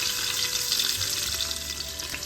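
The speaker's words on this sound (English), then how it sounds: "add 3 tablespoons of coconut oil, 1 teaspoon of fennel seed, 150 grams of sliced onions" Sliced onions and fennel seed frying in hot coconut oil in a pressure cooker pan, a steady, loud, dense sizzle that continues without pause and with no voices.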